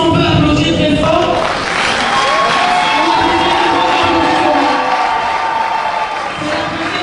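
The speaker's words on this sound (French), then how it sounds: "Est-ce qu'on peut applaudir très fort?" At a civil wedding ceremony, a crowd claps, cheers and whoops loudly for the bride, with excited shouting and voices mixed into a continuous roar that stays strong throughout.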